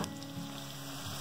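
Brief burst of sizzling as onion hits hot oil, a dense crackling hiss up close.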